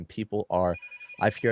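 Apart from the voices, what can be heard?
phone ringing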